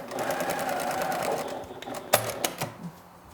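A sewing machine stitches cotton fabric for a bustier dress, a close rapid mechanical whir for about one and a half seconds, then slows into a few separate clicks and knocks.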